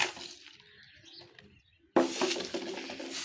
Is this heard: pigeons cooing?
yes